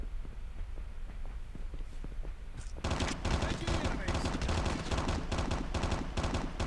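Rapid automatic gunfire in a Call of Duty Mobile battle royale match bursts in loudly after a quieter stretch, then keeps going in dense, stuttering volleys that fill the rest of the clip.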